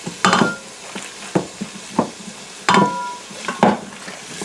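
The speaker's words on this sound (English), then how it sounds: "And here's some saute." Meatballs for spaghetti are sautéed in an Instant Pot, with intermittent scraping and clinking of a utensil against the metal pot over a faint sizzle, close and fairly loud, without talk.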